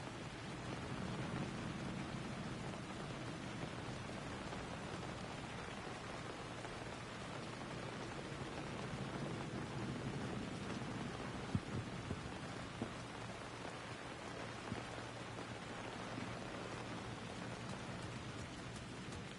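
Steady rain falls in the video game Alan Wake 2, a dense continuous hiss of drops on surfaces at moderate level, with a few faint clicks partway through.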